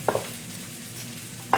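Salmon cooking in a pan on a stovetop burner gives off a soft, steady sizzle, broken by two sharp utensil knocks, one at the start and one at the end.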